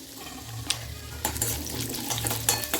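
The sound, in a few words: tempering spices frying in hot oil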